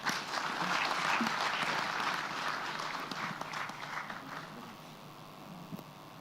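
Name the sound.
audience applause at a seminar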